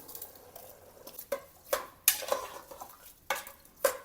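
Washed rice, about four cups, tipped into a cooking pot of masala, giving a scattered run of scraping, clinking and pattering hits as it is stirred in, close and moderately loud.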